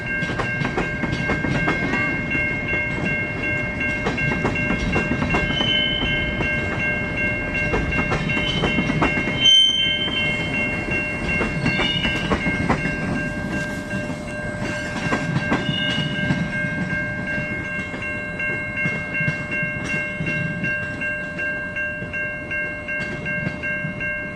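A long freight train of tanker cars rolls steadily past with continuous clickety-clack and wheel rumble, plus a faint horn in the distance. Nobody speaks.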